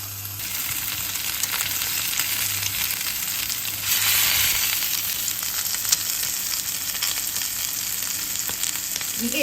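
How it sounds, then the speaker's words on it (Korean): Pork jowl sizzles in a pan, a steady close frying hiss that swells briefly midway, with no voices over it. "항정살인가? 이거 구워볼 거예요."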